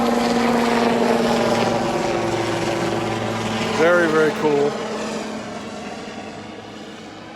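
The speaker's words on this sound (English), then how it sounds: "There's always something about a helicopter taking off that grabs everyone's attention." A helicopter taking off outdoors, a steady loud rotor and engine drone with a constant hum throughout, while a voice speaks briefly midway over the noise.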